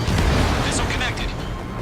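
A missile explosion in the air-combat game Ace Combat 7, a loud, dense rumbling burst that fills the whole moment with sustained low roar and crackle.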